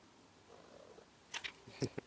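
A cat at a bar in Montenegro gives a few short, soft meows near the end after a faint murmur, quiet and close with no speech.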